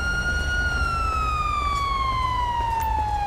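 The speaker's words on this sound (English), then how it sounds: "I really need to turn off that damn siren." A police siren in the video game GTA 5 wails steadily in one long, slowly falling tone, loud and close, with a constant engine-like hum underneath and no talking.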